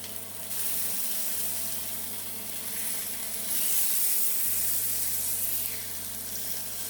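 A peppercorn-crusted New York strip steak sizzles loudly in a pan, a steady close hiss with brief dips and surges as the meat is handled.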